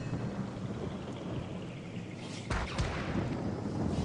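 Rain spell with thunder in the video game Divinity: Original Sin, a steady hiss of rainfall joined midway by a sharp, close thunder crack that rumbles on under the downpour.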